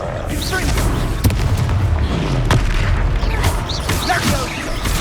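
Confringo spell explosions in the Hogwarts Legacy video game, repeated booming blasts and crackling bursts over dense combat noise, with voices calling out spells.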